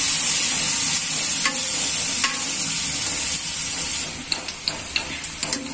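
Spice paste frying in a hot pan, browning, gives a steady close hiss and sizzle that drops slightly near the end, where a few sharp scrapes of a spatula against the pan break through.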